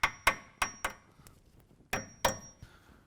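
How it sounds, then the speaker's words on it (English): A hammer taps a replacement pin into a lift kit part on a 2017 Silverado 2500 HD, sharp metallic knocks arriving in two quick clusters with fading ringing between them, close and alone. "we're going to put our replacement pin in here using a hammer"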